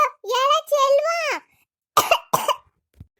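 A young girl coughs twice in quick, sharp bursts after a spell of talking, close and fairly loud indoors, followed by a faint soft sound.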